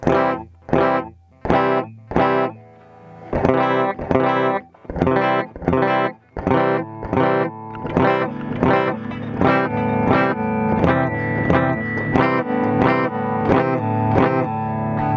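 Electric guitar through a Boss DD-7 delay pedal set to a long delay time: clean plucked notes and chords ring out, then their echoes repeat and pile up into a dense, sustained wash, with no talking.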